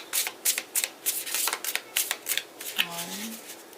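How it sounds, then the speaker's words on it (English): Tarot cards are riffled and shuffled by hand in quick bursts, a crisp rapid flutter of snaps repeating about a dozen times up close, with a brief hum of voice near the end. "Alright, we're going to do 3 shuffles."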